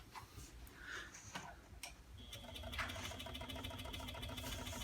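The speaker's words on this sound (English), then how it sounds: "I've got the speed of the scroll saw turned way down because I don't want to melt this acrylic while I'm cutting it" A scroll saw at low speed cuts through acrylic sheet, its steady rhythmic mechanical chatter growing fuller and louder partway through, close to the microphone with no talking.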